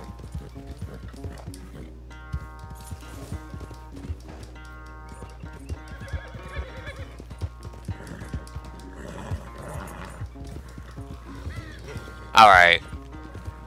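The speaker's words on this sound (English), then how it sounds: "normally when you make your horse jump, you would deplete his stamina a little faster" A horse in Red Dead Redemption 2 clip-clops steadily at a walk, then lets out a loud, sharp neigh near the end, with a voice speaking briefly over the hoofbeats.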